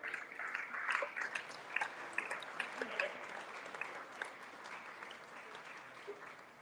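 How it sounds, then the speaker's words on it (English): Crowd applause at the Berkshire Football Awards 2022 as a sponsor from Man v Fat comes up to present an award: dense, fairly distant clapping that swells early and then tapers off, with some voices mixed in. "Big round of applause."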